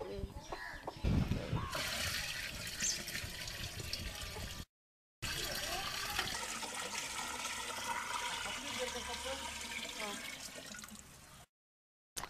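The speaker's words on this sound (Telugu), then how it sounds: "ఆ రమ్ములో వంద లీటర్ల మంచినీళ్ళు వేసుకోవాలి" Water pours into a hundred-litre drum for spraying a paddy field, a gushing splash that starts abruptly and then settles into a continuous filling rush, broken by a short silent gap and ending in quiet.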